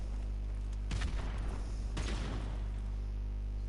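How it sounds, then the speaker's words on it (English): A frag grenade explosion in Modern Warfare Remastered, heard as two heavy, booming blasts about a second apart, each a short burst of crackling roar that fades into a steady low background drone. "Put a frag down there."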